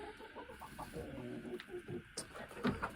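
Chickens on a frozen winter farm clucking softly and intermittently at a distance, scattered low murmurs and one brief louder call near the end over quiet background.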